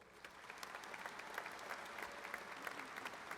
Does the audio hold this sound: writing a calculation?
no